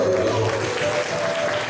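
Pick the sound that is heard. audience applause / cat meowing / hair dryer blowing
audience applause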